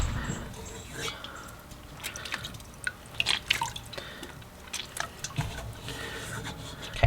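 Cold tap water runs and drips over a lump of homemade butter made from raw milk in a kitchen. Soft splashing, dribbling and squishy handling sounds stay fairly quiet and close, with a voice faintly present.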